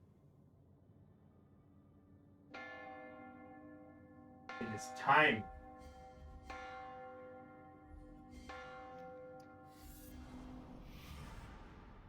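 Bell ringing in The Room VR: A Dark Matter game, with several tolling strikes whose rich harmonic tones ring out and decay, separated by a few seconds, and a brief spoken line over the middle.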